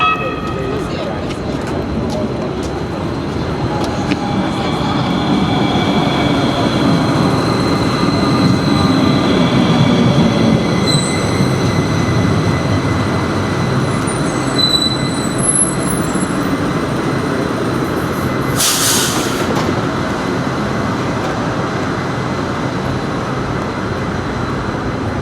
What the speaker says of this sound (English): they got the light rail there